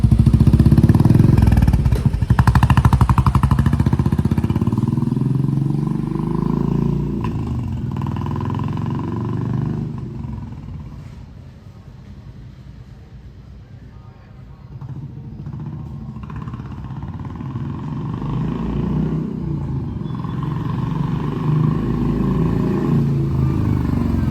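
A Royal Enfield Classic 350 Reborn motorcycle with an aftermarket HK Indori exhaust revs up loudly, settles back toward a lower idle, then builds again, the exhaust rumbling continuously nearby.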